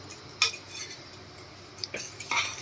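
Melting jaggery is stirred gently in a pot over low heat, giving a few quiet, sparse scrapes and small metallic clinks of the spoon against the pot.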